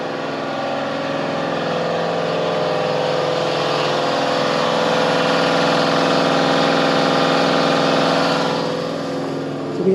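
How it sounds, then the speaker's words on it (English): An air compressor powers an oil extractor pump for a car oil change, giving a steady mechanical hum and drone that swells slightly and then eases near the end, alone with no voices. "You can do it with a compressor, and we have a compressor hooked up to it. I'll show you that."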